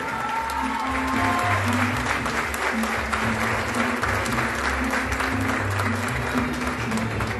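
Sustained audience applause fills a crowded hall at a political swearing-in event for a municipal party committee, steady and dense throughout with a low murmur beneath.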